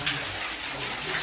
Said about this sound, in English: Look what Corey, look what we found, an underground waterfall.